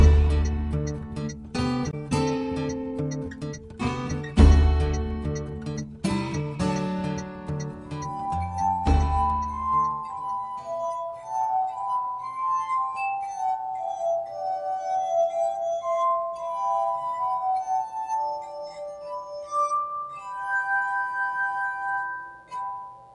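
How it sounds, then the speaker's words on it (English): A glass harmonica rings out, first with dense, sustained chords and several struck accents, then with a clear solo melody of long, pure gliding tones over a soft background. "It's called the glass harmonica."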